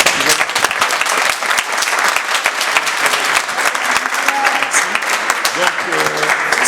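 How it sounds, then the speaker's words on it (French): Schoolchildren at a francophone lycée in Kasumbalesa clap for themselves in dense, sustained applause, loud and close, with a few voices calling out over the clapping. "je voulais profiter de cette occasion pour qu'ils acclament pour eux-mêmes"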